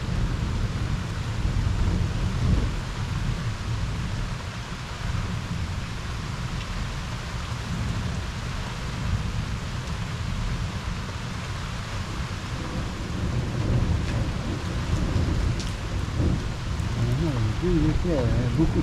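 Heavy rain from a severe electrical thunderstorm over Liège, Belgium, a steady dense wash of rainfall with low rumbling beneath, continuous throughout at moderate loudness.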